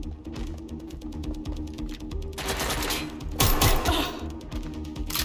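Rapid automatic gunfire from the video game Watch Dogs Legion, with dense bursts of shots that swell into heavier volleys midway, loud and continuous with no talking.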